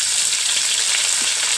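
Garlic and onion fry hard in a pan as papaya shoots go in, making a loud, close, continuous sizzle and hiss that stays level for the whole short stretch.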